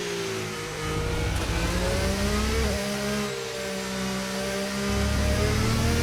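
An F1 car engine in the F1 25 racing game screams continuously at high revs during a lap at Imola, its pitch rising and dipping through gear changes and corners, loud and alone without talk.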